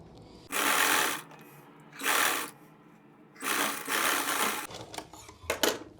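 A sewing machine stitches a neck strip onto a suit in three loud, close bursts of whirring, with quiet pauses between them and a brief final burst.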